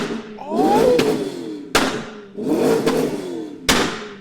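BMW M3 with a decatted exhaust, primary and secondary cats removed, revving hard twice, each rising rev ending in a sharp crack or bang, loud and close with no talking.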